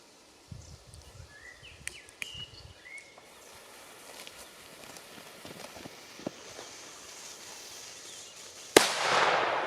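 Scuffling footsteps and light rustling, then a single sharp bang from a Thor P30-1001 firecracker near the end, followed by a loud, fizzing crackle.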